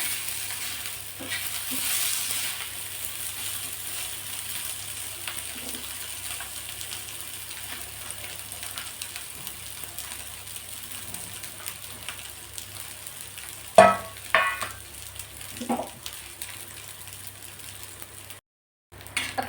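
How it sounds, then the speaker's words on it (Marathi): Bombay duck fish roasting in a pan, a steady faint frying sizzle running throughout, with a few louder clatters and stirring knocks near the end. "मस्त खमंग असे भाजून घ्यायचे आहे बोंडील आपल्याला"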